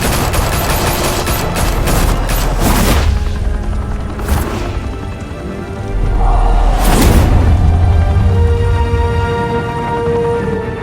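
Heavy gunfire erupts in a Batman video game after an order to open fire, with a loud burst of rapid shots, then booming impacts and whooshes that swell again later in the scene.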